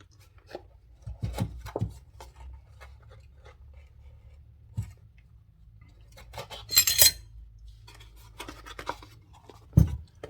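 Dry biscuit ingredients, including baking soda, being mixed together in a bowl, heard as soft scraping and rubbing strokes with occasional clinks of utensil against the bowl, quiet and intermittent.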